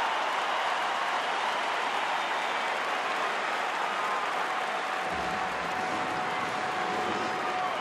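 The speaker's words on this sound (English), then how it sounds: "He straightened things up and Saints fans cheer." Saints fans roar and cheer at an AFL football match between St Kilda and Hawthorn, a dense, steady crowd noise filling the stadium at a constant level throughout.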